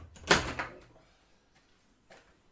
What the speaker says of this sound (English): Doors are being opened